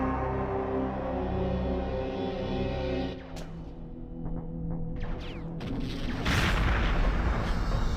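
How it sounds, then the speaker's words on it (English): Gunfire in a multiplayer video game, with a weapon shooting through walls: loud booming shots and bursts, rumbling heavy fire, then a dense, noisy barrage near the end, no talking. "Oh god, they're shooting through the wall."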